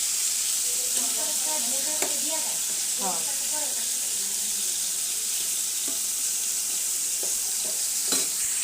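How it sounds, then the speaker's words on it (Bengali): Chicken frying in a pan in a home kitchen while cooking for a birthday gathering, a steady loud sizzle throughout with occasional clinks and a voice speaking near the start. "ভেজে নিচ্ছি।"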